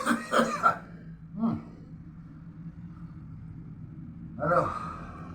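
A few short, harsh coughs or throat-clearing bursts near the mic, with a pause between them over low background rumble.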